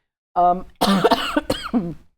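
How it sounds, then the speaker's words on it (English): A speaker coughs close to the microphone in a few harsh, throaty bursts with a voiced catch between them. "my cough is getting very excited"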